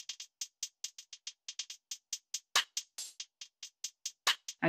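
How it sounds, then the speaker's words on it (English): A programmed hi-hat pattern runs through a TAL Filter plugin, producing quick, crisp ticking hits in an uneven, shuffling rhythm with a few louder open accents, soft and dry. "I moved the hi-hat pattern to a different IOTA Mini instance so that I could introduce another TAL Filter instance on it that sounds like this."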